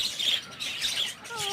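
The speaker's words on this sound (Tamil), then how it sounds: "இதெல்லாம் ரெட் ஐ லவ் பேர்ட்ஸ்" Red-eye lovebirds in a cage chirp and squawk in quick, high, repeated calls at moderate distance, with faint background sound.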